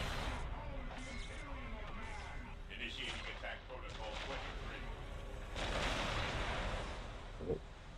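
Gunfire support in a Warhammer 40K mod of a real-time strategy game, with rolling bursts of rounds and booming impacts under continuous battle noise, swelling louder toward the end, with a voice speaking over it.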